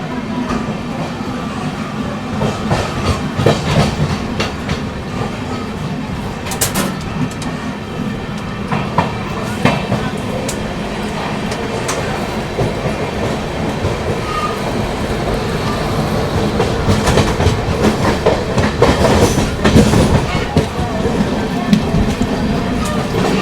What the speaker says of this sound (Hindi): मात्र 2 मिनट के स्टॉप के बाद निकल रही है अपनी अमृत भारत दानापुर रेलवे स्टेशन से।